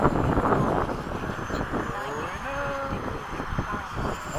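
A model jet plane passes overhead at an airfield, its turbine whine sweeping in pitch as it flies by, heard under outdoor wind noise and brief voices.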